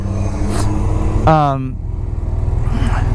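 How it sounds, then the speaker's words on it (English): A large truck rumbles past nearby on the road, a steady low engine drone that briefly swells in a loud pass, heard under someone talking beside a 1986 BMW R80 motorcycle. "I hope this guy with his giant truck doesn't plow me over."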